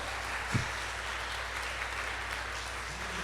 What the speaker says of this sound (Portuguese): Você pode bater palma.